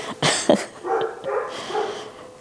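Dogs barking in a short burst of several sharp barks, fairly close and loud, followed by softer yips and whining barks.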